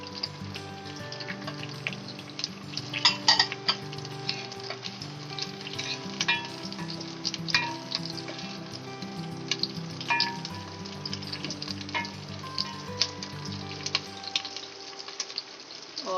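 Chopped onions frying in hot oil in a pan for chicken jalfrezi, a steady close sizzle with crackles and occasional stirring scrapes, no talking.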